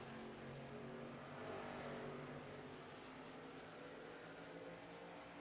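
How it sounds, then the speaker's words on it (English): Race trucks in a Truck Series event at Charlotte Motor Speedway drone past in a continuous, distant engine roar that holds steady throughout, with no talk. "enjoying some of the sounds of the Charlotte Motor Speedway in the Truck Series"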